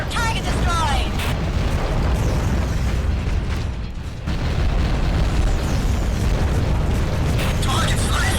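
Underwater target explosions in the AquaNox game: continuous heavy, rumbling booms and bursts fill the whole stretch loudly, with a brief dip midway before the roar resumes.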